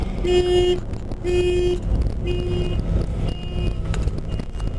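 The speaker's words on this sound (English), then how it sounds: "Always get the car alarms going off." A car alarm near parked black SUVs sounds a series of loud, evenly spaced horn-like honks about once a second over a low rumble of vehicle noise.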